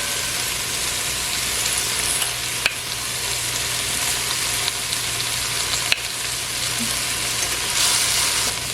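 Okra fries in a pan with a loud, dense, continuous sizzle at close range. A couple of sharp clicks from the pan or utensils cut through, and no voice is heard.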